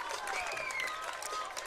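A traveling Gulfport high school football crowd at an away game in Laurel claps and cheers from a distance, a steady rumbling wash of applause with faint whistles, while a commentator talks over it.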